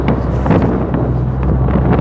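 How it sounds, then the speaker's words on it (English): Strong wind on a ship deck at sea buffets the microphone in a steady, rumbling roar, gusting continuously with no voices. "it's so windy out here"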